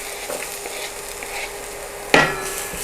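Garlic and onions sautéing over moderate heat in a pan on an induction cooker, a soft steady sizzle with light stirring scrapes and one sharper clatter of a utensil near the end.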